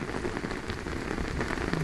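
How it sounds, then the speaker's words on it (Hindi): Torrential rain mixed with hail pours down in Ranchi, a steady dense hiss of drops drumming on surfaces with no pauses, loud and close throughout. "राजधानी रांची में इस समय मूसलाधार बारिश हो रही है, साथ में ओले भी गिर रहे हैं।"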